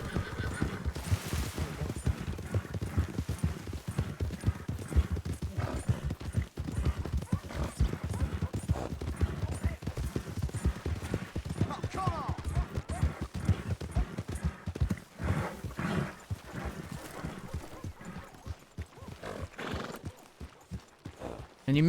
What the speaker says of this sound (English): We almost got taken out by wild horses.